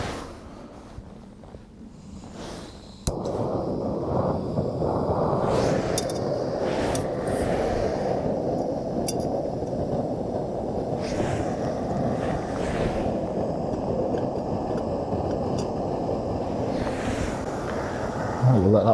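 A small gas backpacking stove heats water in a pan, first a faint hiss, then a steady, loud roaring burner rush that starts abruptly and holds close up, with brief clicks and knocks over it.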